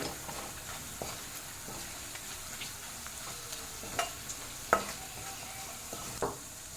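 Spices with kasuri methi, Kashmiri red chili powder and salt frying in a pan for a dahi tadka, a soft steady sizzle with intermittent stirring scrapes and light clicks of a spoon.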